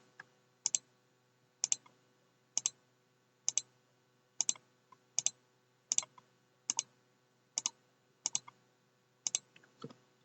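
Quick bursts of keyboard typing arrive in short clusters at a steady rhythm, roughly one per second, close and crisp against an otherwise quiet background.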